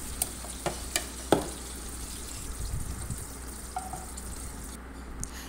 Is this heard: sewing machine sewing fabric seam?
no